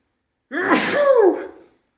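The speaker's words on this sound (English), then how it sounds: "I'm going to sneeze" A single close, sharp sneeze bursts out after a brief silence, with a breathy intake and a voiced, trailing finish.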